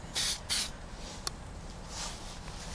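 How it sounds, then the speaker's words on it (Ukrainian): Two quick, close hissing sprays of Juice Lubes Scrub and Buff polish onto a bicycle, followed by a faint tap and a softer third spritz against a quiet background. "Напевно, я багато пшикаю."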